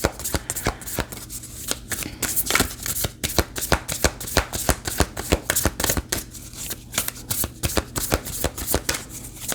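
Spirit Junkie Oracle cards being shuffled for a daily tarot reading, a steady run of close, crisp riffling and slapping strokes with no voices.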